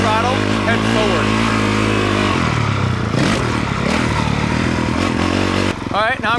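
A dirt bike rides through a jump at half speed and lands front tire first. The engine is loud and close, with throttle blips rising and falling and a clattering landing, and a voice talks over parts of it.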